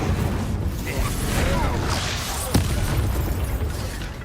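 Bombarda and Incendio spell blasts in the game Hogwarts Legacy go off in a dense, continuous wash of booms and whooshes, with one sharp crack near the middle. No one talks over the combat.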